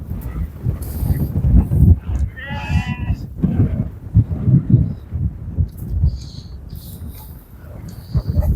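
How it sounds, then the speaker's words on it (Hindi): Healthy goats being taken out to graze, a short bleat from one goat amid shuffling and background noise, with someone talking. "ये वो बकरियां हैं जो सेहतमंद हैं और इन्होंने चराने के लिए लेके जानी है।"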